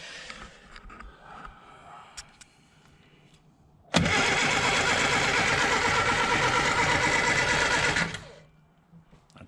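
Engine of a Rover Mini Countryman or VTEC Mini estate turning over and catching at once, then running loud and steady for about four seconds before cutting off, with quieter workshop clatter beforehand.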